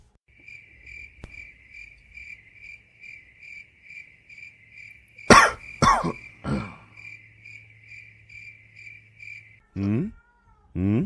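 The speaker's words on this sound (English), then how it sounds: "Hear a cat in the background." Several loud meows and a cough-like yowl from a nearby cat, over a steady pulsing chirp of crickets.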